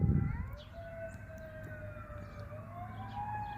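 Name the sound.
sirens going off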